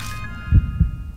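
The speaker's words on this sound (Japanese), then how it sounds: "不意に鼓動が高鳴った。" A pounding heartbeat in the horror game Spirit Hunter: Death Mark, two heavy, low thumps in quick succession over a faint steady hum.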